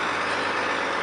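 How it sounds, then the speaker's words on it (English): A Prevost Mirage coach bus engine gives a steady, broadband diesel roar, loud and close, with a constant low hum underneath and no breaks. "Look at the size of that baby, a good old Prevost Mirage."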